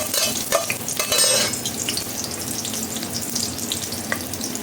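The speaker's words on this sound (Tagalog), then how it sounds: "Pagkatapos ng fresh scallop, paghahaluin ko na ito." Fresh scallops and vegetables are stir-fried in a pan, giving a close, steady sizzle with scraping and clattering stirs early on, then a softer continuous fry.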